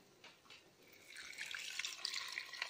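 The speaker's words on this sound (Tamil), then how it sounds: "1 லிட்டர் தண்ணி இதில் ஊற்ற போகிறாங்க." Water, one litre, pouring into a cooking pot while chicken soup is being made, a steady splashing stream that builds from soft to louder over a few seconds, close by with no voices.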